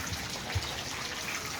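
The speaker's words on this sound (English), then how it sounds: "Starting to rain a little more." Light rain falls outdoors and grows slightly heavier, a soft, steady hiss of drops with a few faint pattering taps, fairly quiet and with no speech.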